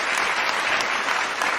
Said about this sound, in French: Je vous demande de les applaudir à nouveau.